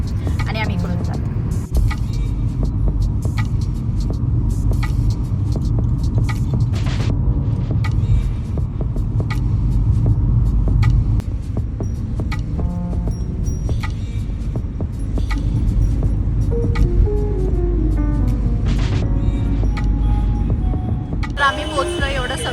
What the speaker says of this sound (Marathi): आम्ही पोहोचलो, एवढं सगळं ट्रॅफिक झालंय.